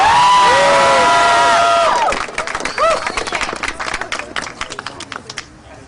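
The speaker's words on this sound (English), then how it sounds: "Let me hear a round of applause for Candace." A rally crowd at the Africana Center at Cornell cheers loudly with high-pitched whoops and shouts over steady clapping, then settles into scattered, fading applause.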